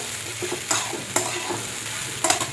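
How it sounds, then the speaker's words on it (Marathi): Sabudana (sago) with green chilies is stir-fried in a pan, a steady close sizzle broken by several sharp scrapes of the spatula, no voices. "आता लगेच आहे ना शाबू आपण परतून घ्यायचे."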